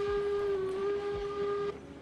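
A sustained, steady train whistle on the Pacific Railroad near Lake Chama sounds at moderate distance for about a second and a half, then cuts off, leaving low rumbling rail noise; nobody speaks.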